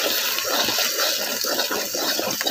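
Water pours steadily into a rohu fish curry cooking with salt and turmeric, making a continuous rushing splash throughout.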